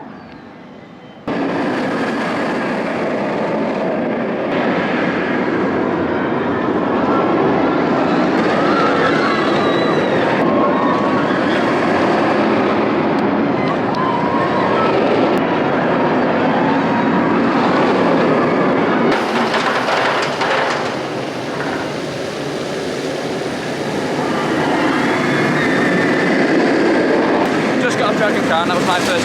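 A roller coaster with many loops roars through a busy PortAventura park during Halloween, a loud, continuous rumble with rattling clatter that swells toward the end, with voices talking over it.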